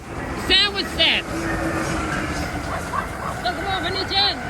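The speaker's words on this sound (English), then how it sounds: "There was the Amtrak train with sandwich set." An Amtrak passenger train rumbles past near King Street in Alexandria, a continuous rolling rail noise with occasional squeals, while people talk excitedly over it.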